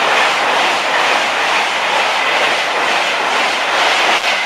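A VTEC express from London King's Cross to Leeds rolls through Newark North Gate station in 2015, a loud, close, continuous roar of wheels and carriages with a steady rumbling rush and faint clatter sustained from start to finish.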